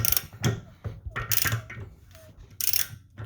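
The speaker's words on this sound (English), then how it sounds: "I'm pushing down on the wrench, going counterclockwise as you're facing the front of the car." A wrench turning a driveshaft bolt counterclockwise on a BMW X3M, close metallic ratcheting clicks and creaks in uneven bursts, with brief scraping between the turns.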